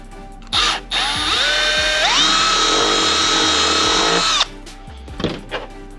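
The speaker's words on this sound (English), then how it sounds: "Drill this hole right here." A power drill whirs steadily for several seconds, drilling a bolt hole in the front bumper of a Honda S2000, its pitch rising as it bites in, with a short burst beforehand and clicks afterward.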